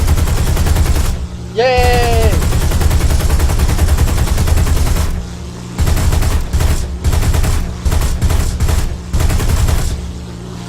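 Rapid bursts of aircraft cannon fire in War Thunder rattle out in repeated volleys, loud and close, with a brief excited shout early on.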